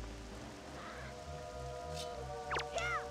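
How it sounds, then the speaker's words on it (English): Steady rain patters across the scene in The Legend of Zelda: The Wind Waker, a soft continuous hiss with a few bright chirping game tones rising near the end. "And it's starting to rain."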